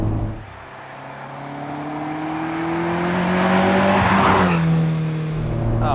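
A 1979 Ferrari 308 GTS with a V8 engine pulls along a road, its tone rising smoothly as it accelerates, dipping briefly with a gear change, then climbing again, loud and close.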